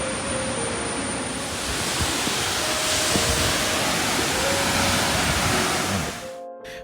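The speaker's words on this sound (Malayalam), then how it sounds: "വഴിക്കടവാറിൻ്റെ ഭാഗമാണ് ഈ വെള്ളച്ചാട്ടം." A loud, constant roaring wash of falling water, dense and unbroken, from the nearby Marmala waterfall on the Vazhikkadavu river in Kottayam, falling into a natural pool, fading slightly at the end.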